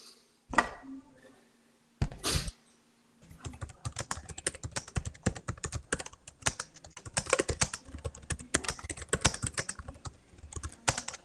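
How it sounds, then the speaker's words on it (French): Rapid clacking of computer keys, a few isolated taps at first, then steady bursts of typing, close and fairly clear with no talking. "Je t'entends taper sur ton clavier."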